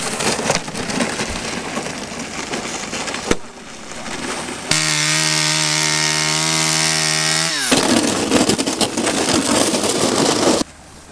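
A saw cuts snow blocks for an igloo at Prati di Mezzo, scraping and rasping steadily in rapid strokes, with a sustained harsh engine-like drone in the middle section and no speech.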